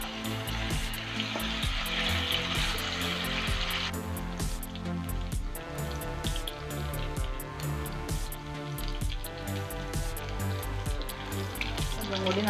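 Chicken pieces frying in hot oil for kondattam, a dense continuous sizzle with crackles and pops, fairly faint and steady.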